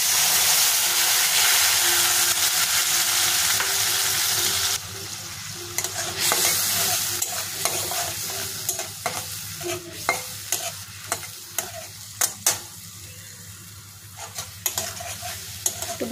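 Spice paste with dried red chillies sizzling in hot oil for a Bengali potol paneer dish, a dense steady fry that eases after a few seconds as a utensil stirs through it in a run of sharp scraping clicks.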